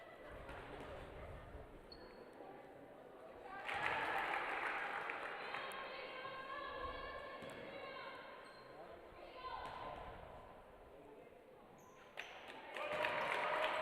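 Fans cheering and clapping at a junior varsity women's basketball game in a gym, swells of crowd noise rising and falling with ball bounces and an announcer talking over it.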